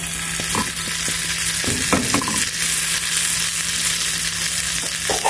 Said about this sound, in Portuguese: Agora vamos colocar nosso omelete aqui na frigideira.